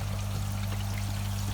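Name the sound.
water from koi tank pump pouring out of shower outlet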